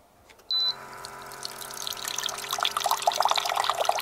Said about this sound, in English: Now this one should turn on and pump out some water for us.